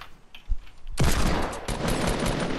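Gunfire in Fortnite: a single faint shot, then a sudden loud burst of rapid broadband fire that roars on continuously, with a second surge partway through and no talking.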